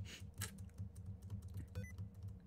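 Computer keyboard keys clatter in rapid, repeated presses, quiet and close, with irregular taps and a brief high beep partway through, as though triggering sticky keys.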